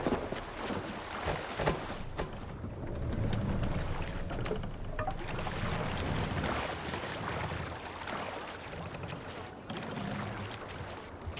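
A sailing ship moves across open water in Assassin's Creed Valhalla, with rushing wind, water washing against the hull and creaking wood forming a dense, steady wash of sound.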